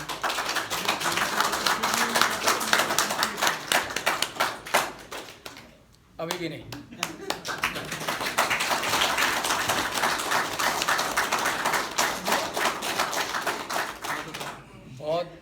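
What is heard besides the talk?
hands clapping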